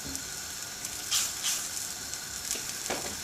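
A pan deglazed on the heat while making a chicken and vegetable casserole hisses with a steady close sizzle, with a few brief louder bursts of steam as liquid hits the hot metal.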